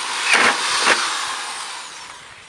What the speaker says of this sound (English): So I'll go ahead and drill this now.